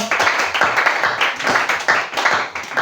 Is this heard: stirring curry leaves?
no